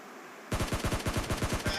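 A rapid burst of roughly a dozen gunshots in PUBG Mobile Lite cracks out after a short quiet moment, evenly spaced, loud and close.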